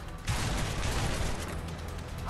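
Gunfire in the action game A Way Out, a dense continuous burst of shots and rattling reports filling the moment, loud and close with no talking.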